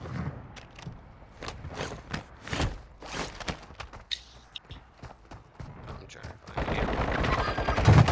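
Gunfire in the Call of Duty video game: scattered sharp shots and short bursts ring out across the scene, building into a louder, sustained rattle of fire near the end.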